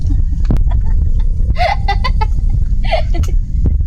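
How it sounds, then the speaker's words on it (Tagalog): A duck squawks in loud, harsh bursts with flapping and scuffling close by while it is being caught outdoors on a planting plot, and a person makes brief sounds nearby. "Ay, ang hirap bulutin ng pato."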